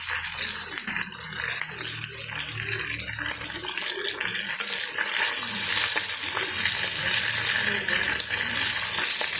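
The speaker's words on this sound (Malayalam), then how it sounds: "ഇത് എണ്ണയിൽ ഒരു വശം മൊത്തം ഫ്രൈ ആയി വരുമ്പോൾ നമുക്ക് തിരിച്ചിട്ട് കൊടുക്കാം" Mackerel coated in turmeric, pepper and chilli paste frying in oil on a banana leaf, a continuous close hiss and crackle with faint rattling, with no break for the whole stretch.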